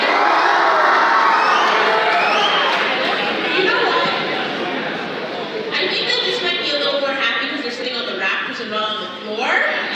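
A crowd at a speaker event cheers and shouts loudly and continuously, with children's voices whooping and chattering mixed into the dense roar, easing slightly toward the end.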